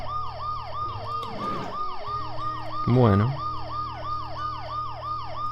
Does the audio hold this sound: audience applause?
no